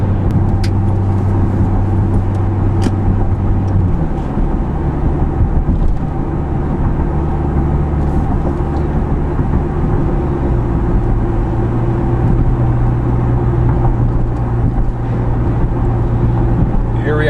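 Inside a Camaro V6 fitted with an MRT axle-back exhaust, a low, steady engine drone holds at 2,000 RPM while cruising at 42 mph, with a slight pitch drop partway through and a voice talking over it.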